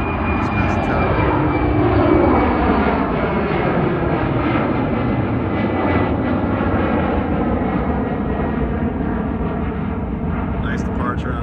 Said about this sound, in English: take off on 3-3. JetBlue, just past the tower.